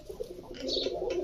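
Domestic pigeons kept at home coo softly and steadily nearby, a low murmuring call that swells louder in the second half with no talking over it.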